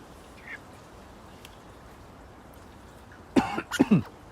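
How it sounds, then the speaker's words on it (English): Coughing after choking on a mouthful of tea, one close harsh burst followed by a second rough fit near the end, each loud against an otherwise quiet room. "I choked on a mouthful of tea just before it came online"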